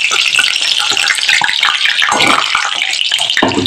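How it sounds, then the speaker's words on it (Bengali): Carrot pulis deep-frying in hot oil, giving a loud, dense, continuous bubbling sizzle up close, with no talking. "এইভাবে আমি ব্যাচের পর ব্যাচ পুলি তেলের মধ্যে দিয়ে ভেজে নেব।"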